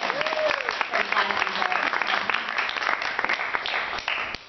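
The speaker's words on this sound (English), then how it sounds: "So a round of applause for a little bit of improv." A comedy club crowd gives a dense, loud round of applause for an improv act, continuous clapping with a voice briefly heard within it before it tapers off.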